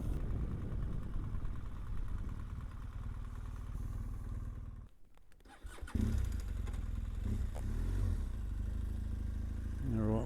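A parked motorcycle's engine runs steadily at idle, a low continuous throb that briefly drops away then returns with clattery bursts, close by and alone.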